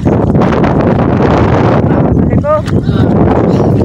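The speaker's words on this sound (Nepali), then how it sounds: "कत्रो हावा चलिरहेको छ।" Strong wind roars steadily across the microphone, a loud continuous buffeting rush that barely lets up.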